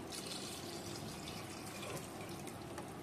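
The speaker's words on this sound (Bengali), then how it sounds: "গরম জলটা দিয়ে দিচ্ছি।" Hot water pours steadily into a pressure cooker holding cooked-down mutton, a continuous close splashing and filling rush lasting throughout without talk.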